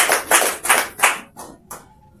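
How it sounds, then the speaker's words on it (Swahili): Congregation in a church clapping in several strong, rhythmic bursts of applause that fade into lighter, sparser claps toward the end, with no voices over them. "Ndio Bwana Yesu makofi."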